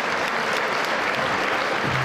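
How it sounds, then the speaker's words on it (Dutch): Audience applause fills a New Year gala hall in Amsterdam at the Dutch IT-Channel Awards, greeting the Editor's Choice Award winner: dense, sustained clapping, steady and loud throughout with no talking over it. "mag ik een hartelijk applaus voor de winnaar van de Editor's Choice Award van Dutch IT Channel, Eugène Tuinman van SLTN InterAccess."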